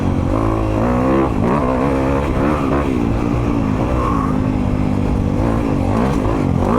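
A 2022 Honda CRF250RX dirt bike engine revs up through the gears, its pitch climbing and dropping at each shift with a brief lull before rising again, loud and close over the whole stretch with no talking.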